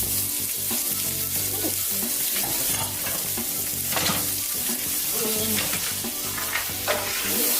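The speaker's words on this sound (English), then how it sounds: "We're going to stir these onions" Chopped onions and garlic sizzling loudly in a hot pan in a home kitchen, with repeated scraping stirs of a utensil across the pan bottom over continuous frying crackle, no talking.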